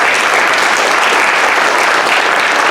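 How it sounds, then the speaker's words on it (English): Loud, dense audience applause at a California gubernatorial campaign event, a steady wash of many hands clapping close by with no break. "Let's give him a round of applause."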